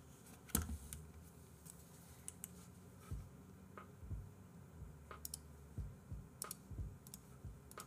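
Typing on an MA87 computer keyboard produces sparse, scattered key clicks at a modest level over a low background hum, with irregular rhythm and no speech.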